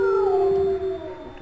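A dog in the horror game Home Sweet Home lets out a loud, close, sustained howl that slides downward in pitch and tapers off, heard alone.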